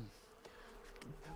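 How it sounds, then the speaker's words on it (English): Bees buzz in a steady, close drone that swells slightly in places, with soft thumps and faint rustling mixed underneath and no voices. "If only these bees were a bit less busy."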